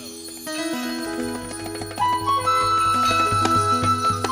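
Bells ringing amid devotional celebration music on the final night of a nine-night Devi Gyan Yagna, sustained metallic ringing tones stacking and overlapping, loud and dense with instruments, no speech.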